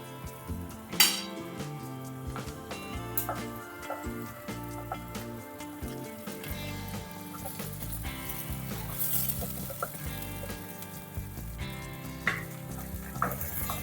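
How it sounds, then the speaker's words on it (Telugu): Ginger garlic paste fries with onions in a pan for a fish head curry, a constant sizzle punctuated by spoon stirring and metallic clinks, with music playing underneath. "ఆనియన్స్ వేగిన తర్వాత ఇప్పుడైతే 1 స్పూను అల్లం వెల్లుల్లి పేస్ట్ వేసుకున్నాం"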